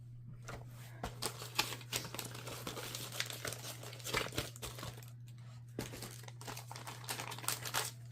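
Crinkling and tearing of tear-and-tape craft tape being handled during a Halloween paper craft, a close, busy run of crackly rustles and rips over a steady low hum.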